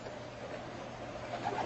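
A pigeon coos softly amid low background ambience, a faint, muffled sound without clear separate calls.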